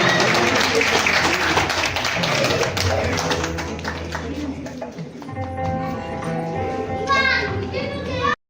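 An audience at a national drama festival in Rajouri claps loudly and densely at first, then the applause thins into scattered claps mixed with children's chatter and voices.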